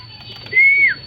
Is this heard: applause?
no